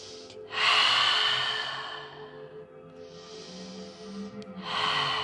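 Forceful lion's breath exhalations during a yoga flow: two long, loud breathy bursts with a softer inhale between, close to the mic, with quiet background hum.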